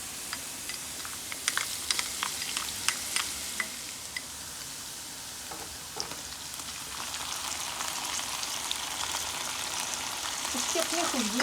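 Garlic and ginger frying in a pan for mixed daal, a soft steady sizzle with scattered crackles and light ticks of spoon against pan, fairly quiet throughout.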